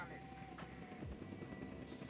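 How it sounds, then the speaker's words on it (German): Helicopters arrive in Jurassic World Evolution 2, their rotor drone a steady mid-distance hum with a brief low whoosh passing partway through, under soft game ambience. "Jetzt kommen natürlich ganz viele Helikopter."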